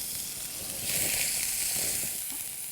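Onions sizzle in hot oil for singara filling, a steady bright hiss that rises slightly and crackles softly, close with no talking.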